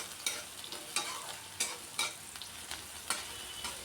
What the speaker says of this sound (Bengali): আদাটাও পেঁয়াজের সাথে খুব ভালো করে ভেজে নিয়েছি।